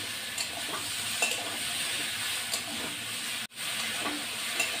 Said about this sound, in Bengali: এবার তরকারিটাকে লাল লাল করে ভেজে নেব